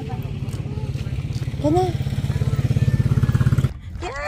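A motorcycle engine putters close by with a steady low throb that swells as it passes, then cuts away, while a person talks over it.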